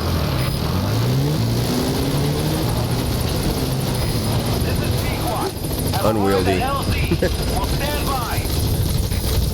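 An extraction helicopter arriving in Metal Gear Solid V, a loud sustained rotor drone with beating blades close by, while someone talks over it and game voices chatter.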